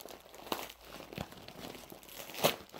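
A plastic bag is pulled open during the unboxing of a Spider-Man suit: scattered soft crinkles close to the mic, with one louder, sharper rustle near the end and no talking.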